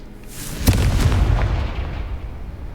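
A Confringo blasting curse exploding in the video game Hogwarts Legacy: one sharp, loud blast with a crackling burst, then a rumbling tail that slowly fades.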